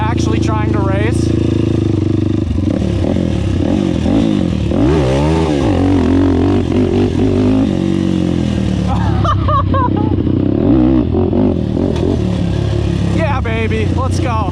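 A 2005 Honda TRX450R ATV engine revs loudly and repeatedly, rising and falling in pitch, while people talk and shout over it.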